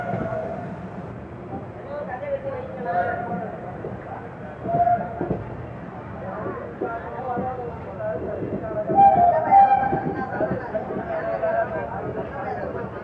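Train rolling through Chennai Fort station on the Chennai Egmore to Beach line, a steady rumble of wheels and carriage noise heard from aboard, with someone talking over it throughout.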